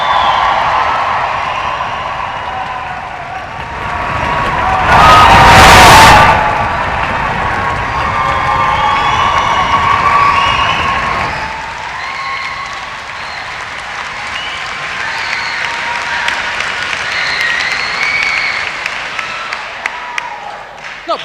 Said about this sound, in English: we want to hear cheering and stomping and celebration to begin things off